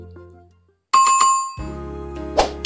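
A notification bell sound effect rings out clear and bright with a few quick tinkling strikes, then a sustained ringing chime with a shimmering accent near the end.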